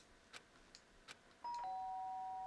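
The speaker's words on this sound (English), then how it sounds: "Sharp sound of a doorbell pierced my sleepy haze and pulled me back to the real world." A doorbell chimes in the video game Danganronpa: Trigger Happy Havoc, a soft two-tone ding-dong ringing out clearly over a quiet, faintly hissing background.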